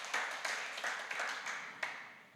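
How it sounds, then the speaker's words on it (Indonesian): A church congregation at a Sunday worship service claps together in a fairly quiet, loose rhythm, with individual claps landing at irregular intervals and audible as separate strikes. "Kita berikan tepuk tangan bagi Allah kita."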